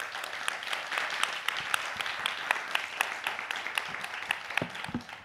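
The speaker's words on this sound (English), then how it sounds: "we would like to welcome him with a round of applause" Audience applause at a dialogue event with a documentary film director, a soft, steady patter of many hands heard from a distance and continuing throughout without talk.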